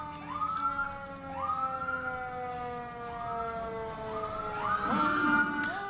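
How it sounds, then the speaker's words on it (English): An old-fashioned wailing emergency vehicle siren rises and falls in long sweeping cycles, loud and steady for the whole stretch with no voices. "that is my favorite siren, the old-fashioned wailing kind of."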